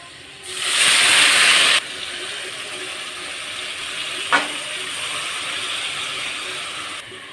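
Marinated pabda fish with onion slide into a hot kadai and sizzle in a loud hissing burst that lasts about a second and a half. A quieter steady background and a single sharp clink follow.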